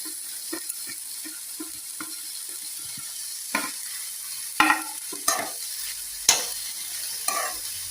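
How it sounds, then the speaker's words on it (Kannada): Mint leaves fry and get stirred in a pan while a chutney is prepared, giving a steady soft sizzle broken by scraping stirs, several sharper clatters near the end, and no talking. "ಸ್ವಲ್ಪ ಒಂದು 5 ನಿಮಿಷ ಫ್ರೈ ಆದರೆ ಸಾಕಿದು"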